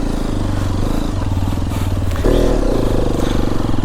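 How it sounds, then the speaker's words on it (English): A Hero XPulse 210 motorcycle churns through heavy sand, its engine loud and close with a steady throb that rises into a harder rev partway through. "difficult to ride in this kind of a heavy sand area"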